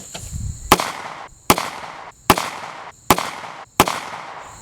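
Five sharp, loud pistol shots from a Stoeger Cougar 8040F fired from a bench at an outdoor range, evenly spaced about a second apart, each with a short ringing tail.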